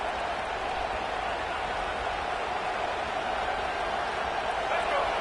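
A football stadium crowd roars steadily throughout, a dense, loud wall of cheering and noise with no breaks, heard close and continuous for the whole stretch.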